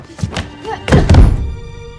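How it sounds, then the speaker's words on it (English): A heavy thud from the film Knives Out, one dull, loud impact after some brief quieter sounds, fading into a low lingering tail. "Oh, so that was actually the thud."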